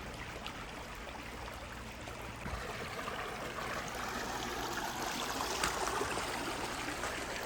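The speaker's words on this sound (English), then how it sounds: "And you see a little waterfall right there." A small waterfall and stream along the Castaic Falls trail in Angeles Forest rush steadily, a broad, even wash of flowing water that grows slightly fuller partway through, with no voices.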